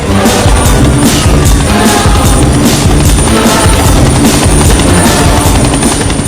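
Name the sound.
helicopter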